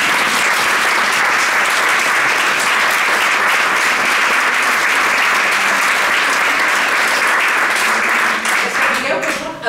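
A large audience applauds the restorers at a Catalan event, a dense and loud steady clapping that sustains for nearly ten seconds before tapering slightly at the end.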